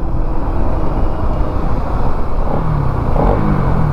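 Bajaj Pulsar NS200 BS6 motorcycle exhaust while riding, a loud steady engine rumble buried in strong wind buffeting, with a brief rising rev near the end.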